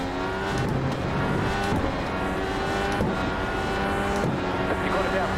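An iRacing race car engine pulls hard out of a slow first-gear corner at Mid-Ohio, a loud sustained rising drone with a voice talking over it.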